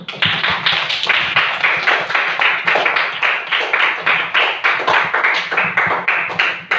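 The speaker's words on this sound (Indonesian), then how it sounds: "Tepuk tangan dulu dong." A classroom of students claps steadily in a brisk, even rhythm, the applause close and loud throughout with no talking.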